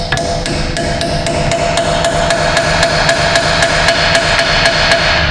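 Rapid metallic hammer blows driving a front inner axle seal on a Jeep Wrangler ring out in a steady rhythm, roughly four strikes a second, over a constant mechanical background hum.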